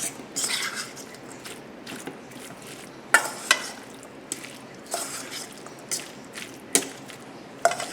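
Spinach salad with sardines being tossed and mixed in a bowl, soft wet rustling punctuated by several sharp clicks and scrapes of utensils, close and fairly quiet, no speech.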